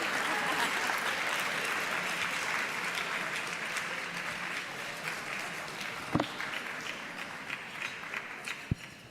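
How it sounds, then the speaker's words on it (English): Sustained audience applause at a New York conference fills the room, dense and even, with a few sharp knocks or thumps near the end and faint voices underneath. "I don't hear enough of a round of applause for Yuna."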